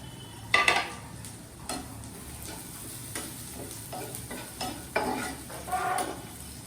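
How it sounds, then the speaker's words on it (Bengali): Chopped garlic frying toward brown for a lentil dal with drumsticks, a quiet low sizzle broken by occasional spoon scrapes and clinks against the pan, close but faint, no voices. "একটু বাদামি কালার করে ভেজে নিই"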